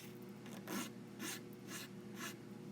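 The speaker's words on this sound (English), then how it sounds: "just gently pull my file across to clean things up" Hand file pulled along the bevel cut edge of mat board in four slow, even strokes, each a soft close rasp over a steady low hum, with no talking.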